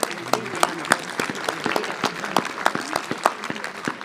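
A small audience at a mayor's New Year wishes ceremony applauds sénatrice Else Joseph, with scattered, moderately loud hand claps continuing steadily and a faint voice beneath.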